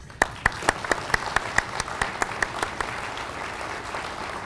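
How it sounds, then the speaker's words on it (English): An alumni awards ceremony audience claps in a convention center, starting with loud, distinct individual claps at a fairly regular pace and growing into fuller, denser applause. "Let's give them applause."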